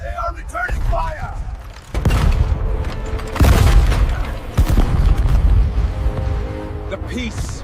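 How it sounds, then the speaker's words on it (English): Cannons aboard sailing ships boom repeatedly in a naval battle, heavy deep blasts mixed with rumbling and clatter, while someone shouts orders over the gunfire. "Reload the starboard gun now! Watch out! They are returning fire!"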